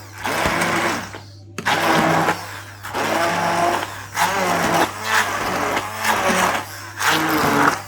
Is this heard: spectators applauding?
no